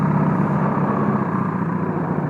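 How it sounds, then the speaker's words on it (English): A Harley-Davidson motorcycle engine idles with a steady, deep rumbling throb, close by and unchanging, with no voices. "It is a Harley Davidson."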